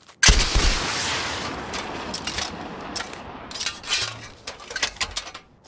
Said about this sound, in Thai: ยิงให้ดูครับว่าทำไมผมถึงเรียกมันว่าปืนพลุ